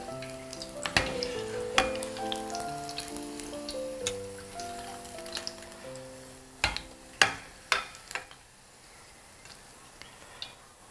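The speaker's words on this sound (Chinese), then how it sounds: "接着炸第二锅" Tofu deep-frying in hot oil gives a steady soft sizzle, with a few sharp pops and crackles, some in quick bursts, rising above a quiet background of faint tones.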